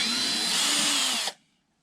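A power drill drives a screw extractor into a stripped screw on a Sig Sauer P320 AXG grip, whirring loudly and steadily up close for about a second before it cuts off abruptly into silence.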